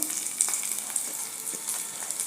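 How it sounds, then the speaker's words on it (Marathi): Onion fries in a pan with ginger-garlic and dry coconut, giving a steady, close sizzle with small crackling pops throughout, fairly quiet and without talk. "आता हे बघा कांदा इथे गुलाबी रंगावरती भाजत आला आहे"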